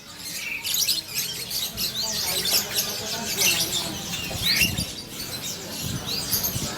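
Birds chirp and squawk in a dense, overlapping chorus at a busy bird market, with steady crowd and street noise underneath and occasional sharper calls close by.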